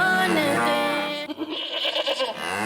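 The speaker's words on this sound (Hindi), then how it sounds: "अरे ओ बकरे मियाँ, आज दाने की जगह क्या खाया है जो आवाजों पर आवाजें निकाले जा रहे हो?" Goat bleating during Bakra Eid festivities, a loud, wavering, nasal bleat that rises and breaks into shorter trembling calls over about three seconds, close by with no talk over it.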